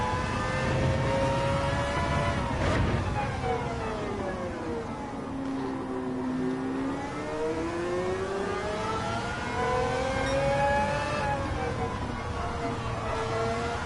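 Mazda Roadster engine lapping Tsukuba circuit in Gran Turismo 7, revving up and down through gear changes in a smooth rising and falling whine, steady and fairly loud throughout.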